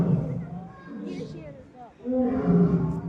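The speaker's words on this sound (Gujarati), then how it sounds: "સાંભળો સિંહનો" A lion roars at Junagadh in two deep, rumbling swells, the second louder, while people talk close by.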